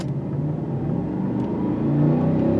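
Inside a W140 Mercedes-Benz S-Class on a test drive, a steady low road-and-engine rumble rises slightly toward the end, with no talking.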